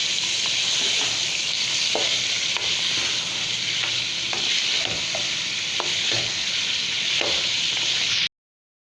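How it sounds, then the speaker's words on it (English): Mutton paya with yogurt is stirred and roasted in a hot pan over a high flame, giving a loud, constant sizzle broken by repeated scraping stirs, until it cuts off abruptly near the end. "Now we will mix it and keep roasting it"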